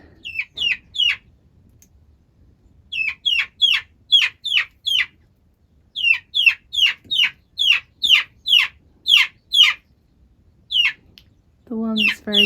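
Pet chicks or chickens give repeated bursts of high chirping clucks in quick rhythmic runs, close and fairly loud, with short pauses between runs and a brief low voice at the very end.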